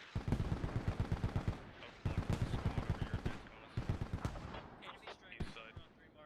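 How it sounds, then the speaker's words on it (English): Gunfire and incoming mortar rounds in the military shooter Squad, long rapid automatic bursts broken by brief gaps, then scattered heavier single impacts as the firing thins out, under quiet commentary. "We got mortars coming in too."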